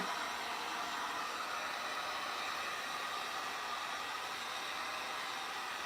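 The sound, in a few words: hair dryer drying paint on furniture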